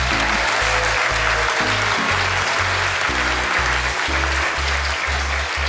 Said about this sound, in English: Can I hear the crowd give some love to this kid?